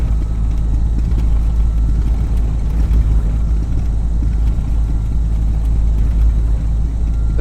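Low, rough engine rumble from a simulated Black Square Commander 114 in a flight game, running lumpy and uneven at idle, steady and close with a heavy low-end drone.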